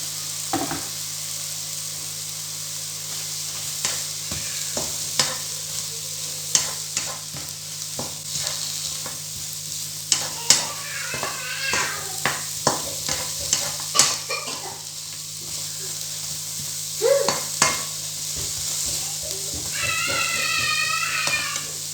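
Onions sizzle steadily in a pan while a utensil stirs and scrapes in repeated clicks, and a cat meows a few times nearby.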